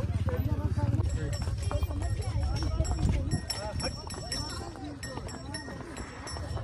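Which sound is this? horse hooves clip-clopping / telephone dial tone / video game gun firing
horse hooves clip-clopping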